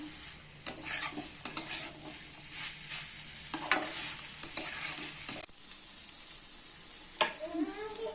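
Fish head frying in a pan for a vegetable curry, stirred with a utensil, gives a steady sizzle broken by repeated scraping and clinking strokes. A quieter stretch follows near the end.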